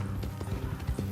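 Horse hooves clip-clopping at a steady trot in the video game Red Dead Redemption 2, a rhythmic run of soft thuds under low rumbling background noise, with no talk.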